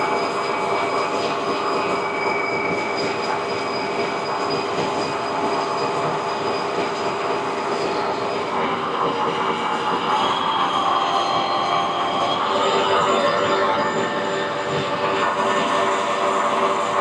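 A lathe machining a drilling saver sub at full speed gives a loud, dense, continuous whine and roar with steady tonal bands that shift slightly partway through, and no talk over it.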